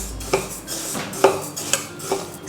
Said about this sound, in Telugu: ఈ పప్పుని మంచి వాసన వచ్చే వరకు వేయించుకోవాలి.